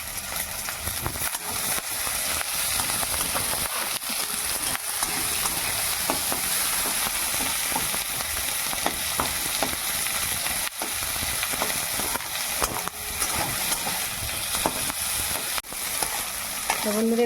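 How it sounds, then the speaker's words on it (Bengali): Capsicum frying in a pan for Bengali muri ghonto, a dense, steady sizzle with frequent spatula scrapes and stirring clatter throughout, close and fairly loud. "ক্যাপসিকামগুলো দিয়ে দেবো।"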